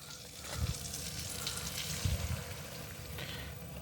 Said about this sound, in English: I'm going to deglaze with a little bit of milk